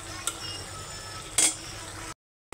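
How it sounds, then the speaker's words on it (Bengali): Meat frying in a pan and being stirred, a steady sizzle with a couple of sharp utensil scrapes or clinks, close by, ending in a brief silence. "মাংসটা কী অবস্থা একটু নাড়া দিয়ে দেখি"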